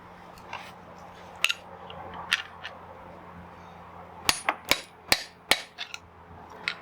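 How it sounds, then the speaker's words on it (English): Metal tool tapping the half-shaft output cover of a BMW E46 M3 differential to loosen it: a scattering of sharp, close knocks that turn into a quick run of about six firm taps near the end. "Couple of taps on the side to just release it."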